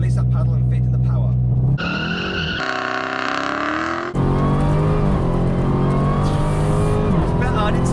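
A Dodge Demon launches hard from a standstill, its engine roaring up through the revs with tire squeal, loud and close from inside the car, while a voice talks over it.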